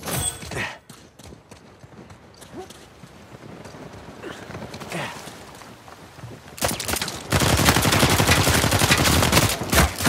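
Rapid gunfire in the multiplayer video game Uncharted 4, a ranked King of the Hill match, starting with scattered shots then swelling into a loud, dense sustained burst of automatic fire in the final seconds.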